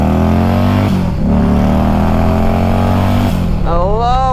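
Turbocharged Harley-Davidson CVO Road King fitted with a large Garrett turbo, revving loud and close: a steady deep engine drone with a brief dip, then rising whine and rapid pitch sweeps near the end as the throttle climbs.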